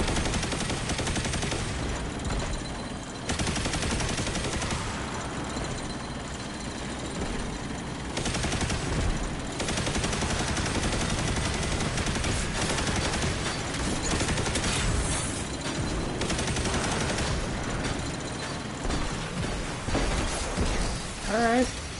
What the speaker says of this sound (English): now if you want to set yourself up somewhere and just rain gunfire down